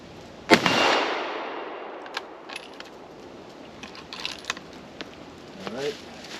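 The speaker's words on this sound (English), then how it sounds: "I just shoot the 50-yard plate, 223 up first" A single sharp .223 rifle shot cracks out outdoors toward a steel plate at 50 yards, followed by a lingering rolling echo and faint ringing, then scattered small clicks and handling noises.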